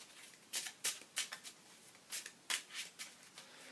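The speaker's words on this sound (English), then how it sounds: "Got to get a couple more cards here." Thunderstone board game cards drawn and handled on a table: a quiet series of crisp papery flicks and slides in irregular short bursts, close up and without talk.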